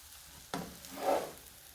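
Bread frying in a pan is flipped over: a sharp soft thud, then a brief swelling sizzle that fades quickly, quiet and close.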